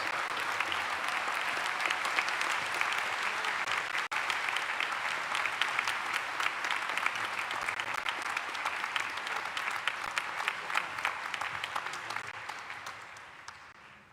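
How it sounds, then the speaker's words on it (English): A graduation audience at a university commencement gives sustained, dense applause for an honorary Doctor of Science recipient, steady and full for about twelve seconds before tapering off near the end. "Please give Leonore Herzenberg a big round of applause"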